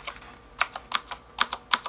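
Typing on a blue mechanical keyboard with a Dragon Ball character design and deep-travel keys: close, crisp clacking keystrokes in uneven bursts with brief pauses between them, no voices.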